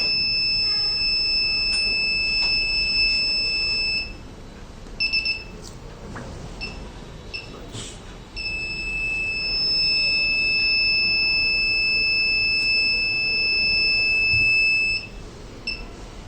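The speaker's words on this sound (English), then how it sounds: "the motor got switched off and continuously buzzer on" A driver drowsiness alarm buzzer sounds in long, steady high-pitched tones, cutting off briefly with a few short beeps before resuming continuously, over faint background hum.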